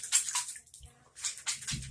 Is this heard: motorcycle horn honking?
no